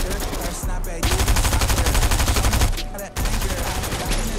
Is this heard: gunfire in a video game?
yes